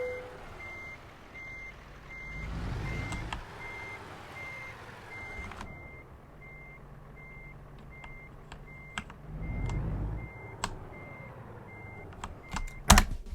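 Truck in American Truck Simulator backing up an articulated trailer, its reversing beeper pulsing steadily throughout over a low engine rumble, with a couple of surges in engine noise and sharp air-release hisses near the end.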